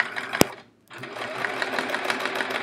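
A sewing machine doing free motion quilting whirs close and steadily, cuts out for a brief moment, then resumes its rapid mechanical stitching hum; the machine has a suspected belt problem.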